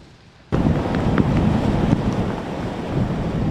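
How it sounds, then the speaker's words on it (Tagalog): Strong sea waves crash and roar during a storm surge off the coast of San Antonio, Zambales, a loud, continuous turbulent rush of surf and wind that starts abruptly and continues with no voices. "Mabagsik ang mga alon, lalo rito sa bahagi ng karagatang sakop ng Barangay San Miguel sa bayan ng San Antonio."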